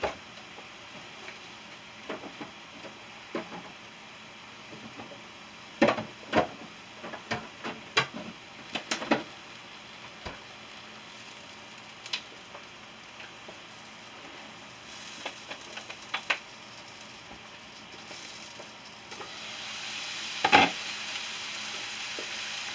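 Philly cheesesteak filling with Cheez Whiz sizzles softly on a hot surface, a faint steady frying hiss broken by scattered clicks and scraping taps, with one louder clatter near the end.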